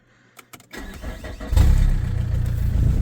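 A Saab 1.9 TiD diesel car engine that has sat unused cranks with a few faint clicks, then catches around the one-second mark and settles into a loud, steady, rumbling diesel idle close by.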